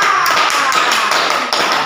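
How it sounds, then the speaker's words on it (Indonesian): Classroom applause for a student group during a lesson on series and parallel circuits, a loud, dense patter of many hands clapping close by without a break. "Tepuk tangan dulu buat kelompok 1"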